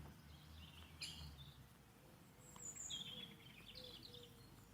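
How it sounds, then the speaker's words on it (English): Faint outdoor birdsong from robins and blackbirds, a few brief high chirps and short phrases at a distance over a quiet breezy background. "You can hear the bird song"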